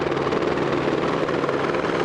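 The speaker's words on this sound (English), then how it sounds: "this helicopter looks like it's going to drop that bucket of water right over the spot" Firefighting helicopter hovering overhead as it drops a bucket of water, its rotor a loud, steady, close chop with a dense, continuous engine roar throughout and no voices.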